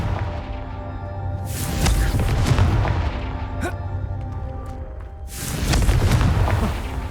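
Explosion spell blasts in a Hogwarts Legacy trial, two loud booming bursts with rumbling decay, the first lasting a couple of seconds and the second near the end, over a low steady game ambience.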